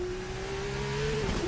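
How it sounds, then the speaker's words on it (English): A fictional V12 formula race car engine in a racing simulator game holds a steady, whining tone that dips slightly near the end. It is moderately loud against a faint background, with no talking. "instead of the epoxy engine, they've put a V12 in it, so it should sound nice"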